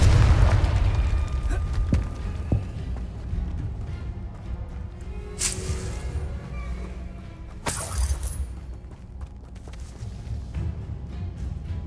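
A Confringo blasting spell explodes in the Hogwarts Legacy video game, a deep booming blast at the start that rumbles and fades, followed by further crackling bursts and magical swooshes over low game ambience.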